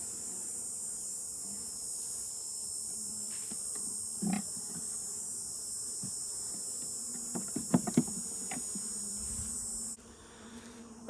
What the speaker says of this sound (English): the bees are starting to get a little more flighty right now, going out and trying to find stuff